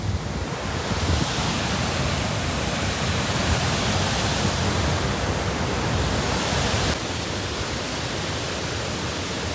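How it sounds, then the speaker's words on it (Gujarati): Water rushes at high speed past a dam near the Galdhara Khodiyar temple, a loud, constant roaring wash that stays steady throughout and eases slightly toward the end. "બહુ સ્પીડમાં પાણી આવે છે."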